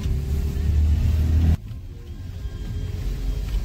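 A car labouring up a steep mountain road near Darjeeling in first gear, a loud low engine drone heard from inside that suddenly drops to a quieter rumble partway through.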